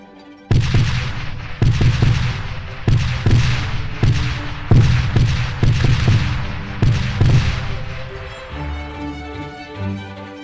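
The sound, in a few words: ship cannons firing rolling broadside in sailing video game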